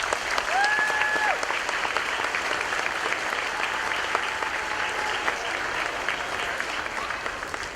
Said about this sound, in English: I think you guys should give yourself a big round of applause.